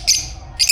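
Pet birds in a cage, including opaline birds, give two brief high chirps separated by a short pause, close and fairly loud.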